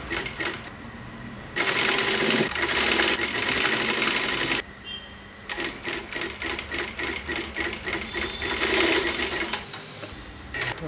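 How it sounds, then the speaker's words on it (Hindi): Sewing machine stitching a four-dart blouse, running in fast mechanical bursts with a brief pause partway, rhythmic needle clatter close up. "अब देखिए यहाँ पर एक सिलाई हम चला लेते हैं।"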